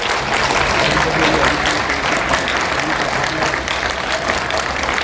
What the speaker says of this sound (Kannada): ಅನ್ನ ನೀಡ್ತಕ್ಕಂಥ ರೈತರಿಗೆ ಜೋರಾಗಿ ಒಂದು ಚಪ್ಪಾಳೆಯನ್ನು ಕೊಡಿ.